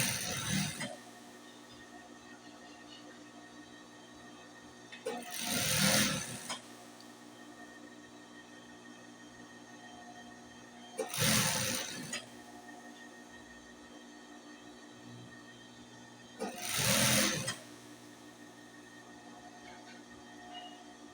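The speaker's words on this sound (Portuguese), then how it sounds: "Você vai conseguir na sua máquina industrial e na sua máquina caseira fazer essa peça." Industrial or home sewing machine stitching an inset trim piece, heard in three short bursts of a few seconds each, separated by quieter pauses with a steady low hum underneath.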